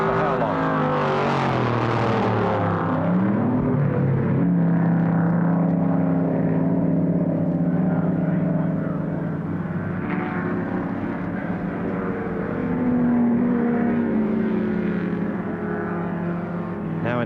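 A Ford Falcon GTHO and a Ford GT touring car run at full throttle down the main straight at Warwick Farm circuit, two large engines roaring loudly, building and passing, with a commentator talking over them throughout.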